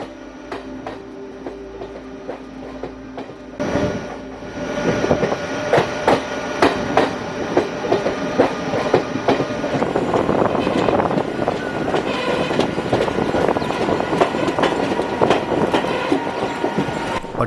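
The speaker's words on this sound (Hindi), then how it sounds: "ऐसा लग रहा है मानो बादलों के ऊपर से हमारी ट्रेन जो है वो जा रही है" A train descending a mountain ghat route rattles steadily, with dense clickety-clack of wheels over rail joints and a continuous rumbling from the carriages, heard from on board.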